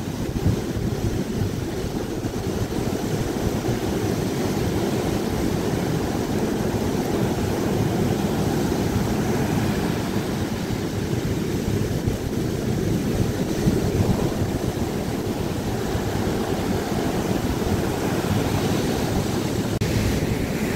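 Ocean surf roars continuously, waves breaking and washing nearby with strong wind buffeting the microphone throughout; no one speaks.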